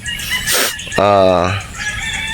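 Game fowl roosters on a Batangas game farm give one loud, close crow lasting about half a second, with fainter fowl noise and outdoor background before and after it.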